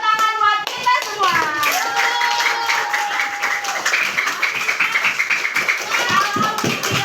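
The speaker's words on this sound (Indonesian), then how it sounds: "Oke, tepuk tangan buat kita semua." A school class of children clapping their hands together in a classroom, a dense burst of claps with children's voices and a sung or called-out tone mixed in throughout.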